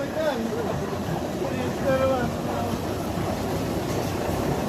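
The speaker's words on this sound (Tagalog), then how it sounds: "gumagana na yung makina" A repaired engine running steadily, a continuous low rumbling drone close by with a few tonal whines riding over it, and people talking over the noise throughout.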